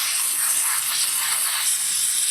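A steam cleaner sprays onto a restroom urinal, a loud, even, continuous hiss that holds steady and close throughout the short stretch, with no voices.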